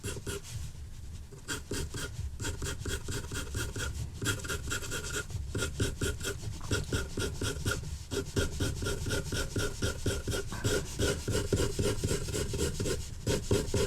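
Rapid pencil shading on paper while drawing a portrait, a dense continuous scratching and rubbing with quick back-and-forth strokes, close and steady throughout with no talk.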